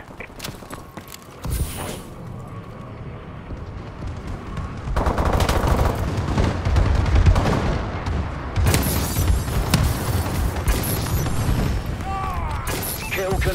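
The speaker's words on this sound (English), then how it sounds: "Friendly bombing run incoming." A friendly bombing run in Call of Duty: Advanced Warfare multiplayer, loud bursts of rapid gunfire with heavy booming explosions rolling in and sustaining over a dense, continuous battle din.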